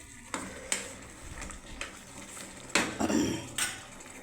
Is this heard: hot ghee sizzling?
yes